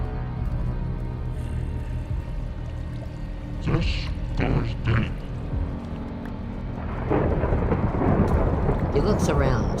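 Thunder rumbles through a Minecraft lightning storm over steady pouring rain, with a loud crack and rolling boom midway and heavier rain noise building toward the end.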